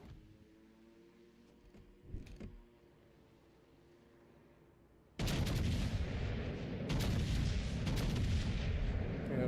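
Ship guns in a naval video game fire: a faint early thump, then from midway a sudden loud barrage of heavy booming shots rolling on continuously to the end.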